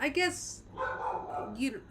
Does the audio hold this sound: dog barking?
yes